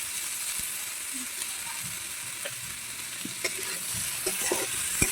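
Vegetables frying in a pan over a traditional clay stove, a steady low sizzle with occasional clinks and stirring scrapes, fairly close and moderate in level, with no talking.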